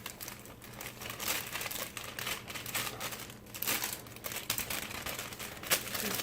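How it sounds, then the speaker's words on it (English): Chocolate cake mix, made with Coca-Cola, is poured from its opened package into a mixing bowl, giving a steady close crinkling and rustling of the bag with soft granular hiss throughout, with no talk. "I'm just going to pour the whole thing into the mixing bowl here."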